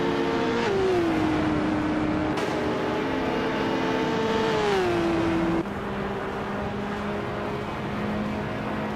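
A 1996 Ozella P race car with a BMW engine in a racing video game roars loudly, its pitch sweeping up as it accelerates and dropping at each gear shift, steady and close throughout.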